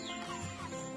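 Backyard chickens cluck softly in a farm yard, a low, continuous murmur of hen sounds with no voices.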